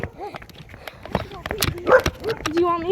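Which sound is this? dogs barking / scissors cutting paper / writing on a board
dogs barking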